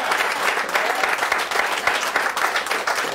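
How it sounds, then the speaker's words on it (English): An audience at a live interview with Dennis Dunaway claps steadily, a dense, even wash of applause held at one level throughout, with no voices over it. "let's hear for Dennis and Steven"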